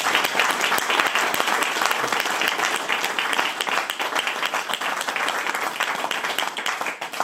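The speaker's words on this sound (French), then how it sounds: "Je pense qu'on l'applaudisse vraiment bien fort." Dense audience applause for a pianist and composer at a staged opera-project show, loud and continuous throughout with no voices over it.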